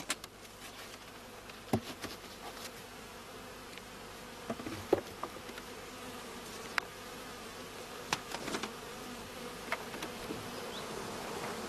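A honeybee colony buzzes steadily during hive manipulation, a faint continuous drone with scattered brief clicks and taps of handling throughout, no voices.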